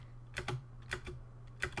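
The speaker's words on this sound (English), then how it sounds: "sorry about the loud keyboard" A loud IBM Model M mechanical computer keyboard clacks in short bursts of keystrokes, three clusters of sharp clicks over a low steady hum, with no talking.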